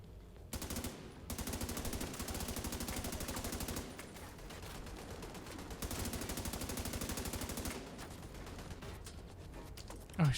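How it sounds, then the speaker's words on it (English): Sustained enemy gunfire in The Division 2 on hardcore mode, fired from a small room window: two long bursts of rapid automatic shots, each lasting about three seconds, with a brief gap between them and no talking. "He's shooting me through the tiny little window of room that he has."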